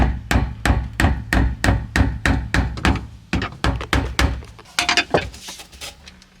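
A screwdriver taps out the fuel pump retaining clip on a 2000 Land Rover Discovery's in-tank pump in a steady run of about twenty sharp metallic knocks, close and evenly spaced, getting more uneven toward the end.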